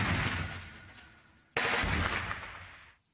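Two sharp blasts from an RPG grenade launcher fired in combat, each a loud sudden boom followed by a long rumbling decay, the second arriving about halfway through, close and dominant with no talk.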